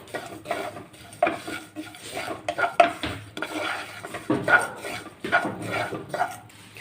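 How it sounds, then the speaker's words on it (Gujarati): Poppy seeds and sesame seeds are roasted in a pan for dry fruit laddu. A spoon stirs and scrapes in a steady irregular rhythm, with light metallic clinks close by. "બે ચમચી જેટલા ખસખસના બી એડ કરીશું અને ચારથી પાંચ મોટી ચમચી જેટલા આપણે તલ એડ કરીશું સરસ રીતે આપણે રોસ્ટ કરી લઈશું"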